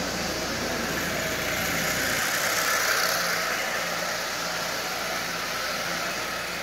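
A Lionel 8200 dockside switcher model train, its DC motor running on AC power, hums steadily along the track pulling two cars, a constant close whirring drone with a faint buzz and no voices.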